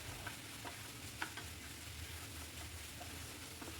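Spinach greens are being mixed in a pan over low heat. Light scraping and stirring clicks come at irregular intervals over a faint, steady sizzle, all quiet and close.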